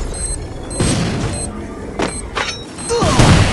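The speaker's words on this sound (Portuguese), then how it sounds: "Vou fazer granada, Dudu." Grenade blasts and gunfire in a mobile shooter game played on an iPhone 11, several short booming bursts over a steady game background.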